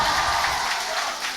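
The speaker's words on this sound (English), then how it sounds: "Huge cheer from the crowd here," Broad roar of an esports arena crowd at an LCK 2025 League of Legends match between NS RedForce and T1, a loud, sustained cheer filling the whole moment without a break.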